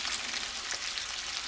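Onions frying and caramelizing in a pan, a steady soft sizzle and crackle of oil close by, quiet and continuous with no voices.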